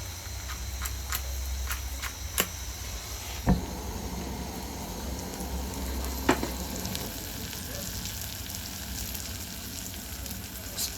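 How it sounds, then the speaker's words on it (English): Omena fry with Royco in a pan while being stirred: a continuous close sizzle with occasional sharp spoon taps against the pan, a low burner rumble underneath, and no voices. "Stir the omena so that they can mix up with the Royco"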